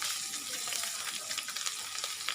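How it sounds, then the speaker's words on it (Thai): Hot oil sizzles and crackles steadily in a pan while cooking duck larb, a close, even frying hiss with small pops and no voices. "น้ำมันแตกแล้ว"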